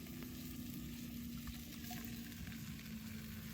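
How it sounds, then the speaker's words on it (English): Low, continuous sizzle of potatoes, cauliflower and carrots cooking in a Dutch oven over a campfire, heard close under a steady background hum. "Good sizzle."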